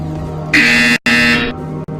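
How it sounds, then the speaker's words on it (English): A loud harsh electronic buzzer in the VR game Portal Stories blares in two bursts separated by a brief gap, over a steady low hum. "You will hear a buzzer."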